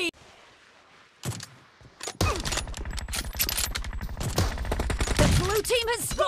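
Gunfire in PUBG with an M24 sniper rifle: a faint shot early on, then loud, dense rapid volleys of shots with overlapping game sounds.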